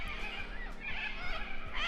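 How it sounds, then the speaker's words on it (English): Corellas squawk in a noisy outdoor flock, harsh raspy calls overlapping continuously and fairly loud throughout. "there's a lot of squawking from the corellas behind me"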